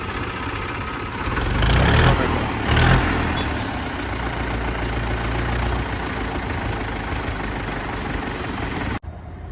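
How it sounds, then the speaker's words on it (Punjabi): An Indo Farm 3060 tractor engine idles steadily nearby, a low, even rumble that swells briefly early on before holding constant and cutting off abruptly at the end. "ਟਰੈਕਟਰ ਦੀ ਕੋਈ ਆਵਾਜ਼ ਨਹੀਂ ਜਮਾ ਹੀ ਸਾਇਲੈਂਟ ਟਰੈਕਟਰ ਹੈ"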